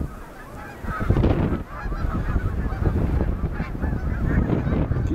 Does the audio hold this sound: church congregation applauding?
no